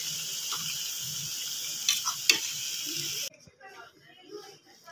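Mixed vegetable Chinese pakoras sizzling in hot oil as they are lifted out, a steady bright frying hiss with a few scraping clinks, then the hiss cuts off abruptly, leaving quiet kitchen noise.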